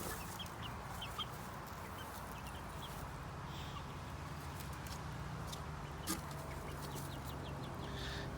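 Hen and her 70-day-old chicks cluck softly and steadily while foraging for bugs outdoors, a continuous low murmur of fowl calls with a few sharper chirps, no talking.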